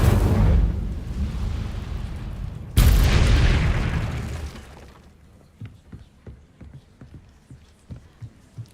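Casting the Incendio fire spell in Hogwarts Legacy gives a sudden fiery burst with a whooshing roar, a second sharp blast partway through, then crackling embers that fade into scattered small pops.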